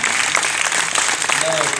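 Brief burst of audience applause at an arena ribbon-cutting event, dense clapping, loud and close, with voices mixed in.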